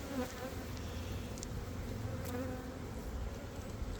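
A dense, steady buzzing hum of many honey bees flying close by around an opened hive, continuous and fairly loud with no voices.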